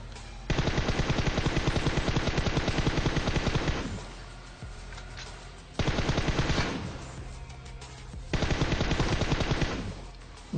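M4 assault rifle fire in PUBG, three long rapid automatic bursts, loud and close, separated by brief quieter gaps.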